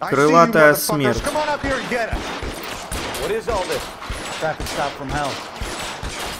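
Gunfire from a shootout in the video game L.A. Noire crackles in bursts beneath someone talking almost continuously over it.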